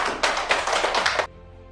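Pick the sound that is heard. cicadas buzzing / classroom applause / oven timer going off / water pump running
classroom applause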